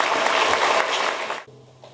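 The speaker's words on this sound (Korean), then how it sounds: "여러분 이때 박수 한번 쳐야지." A lecture audience at a talk on rule-of-law democratization and police investigation reform claps loudly in a dense burst for about a second and a half, then it cuts off to near silence.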